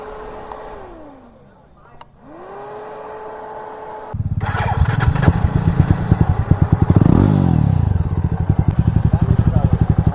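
A Jawa Perak motorcycle with a loud exhaust idles with a steady low thump, then from about four seconds fires up into a close, loud, rapid pulsing exhaust beat that swells in a rev and settles into a rhythmic burble.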